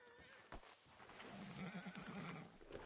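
A horse in the video game Red Dead Redemption 2 gives a breathy, fluttering whinny near the end, preceded by a single sharp hoof knock and soft movement sounds at moderate volume.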